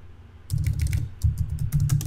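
Quick bursts of clicking keystrokes on a computer keyboard start after a brief pause and continue in an uneven, rapid rhythm, close and clear.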